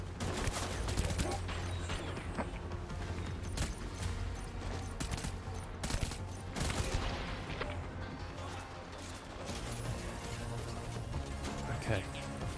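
Rapid bursts of gunfire aimed at the player in the video game Death Stranding, loud and dense, crackling in repeated volleys throughout, with someone speaking over the shots.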